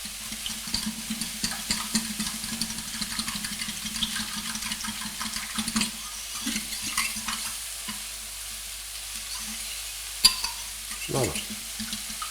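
Leeks for a leek fondue being stirred with a fork in a pan, giving a steady soft sizzle with continual scraping and clicking of the fork, close and even throughout, with a brief word spoken near the end.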